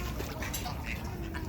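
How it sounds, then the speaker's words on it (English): Ducks quacking while being fed, with geese and fish also being fed nearby, giving a quick cluster of close quacks over a brief moment of steady background noise. "Feeding the ducks, geese, and I fish."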